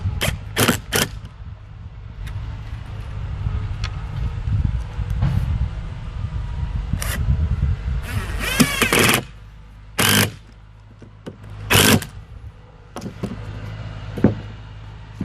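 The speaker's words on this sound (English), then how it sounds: "So let's go ahead and shoot some screws." Power drill driving screws into scrap wood, heard as several short loud whirring bursts between quieter handling noise and a low background hum.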